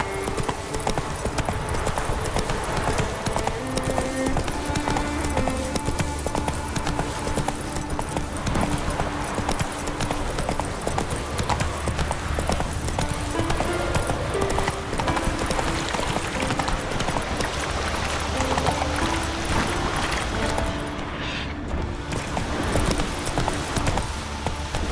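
Roach the horse galloping across Skellige in The Witcher 3: Wild Hunt on PC, a continuous fast run of hoofbeats over layered music and ambience, loud and steady throughout.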